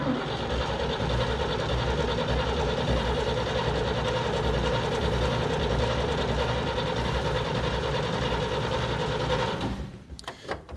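A 1941 Chevy Coupe engine cranks over and over with no choke, a steady loud churning starter rhythm running about nine seconds before it cuts off into a few clunks and quiet.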